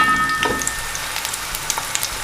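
Chopped onions frying in a pan for a beef paya dish, giving a faint, steady sizzle scattered with small, sharp crackles and pops, with no talking.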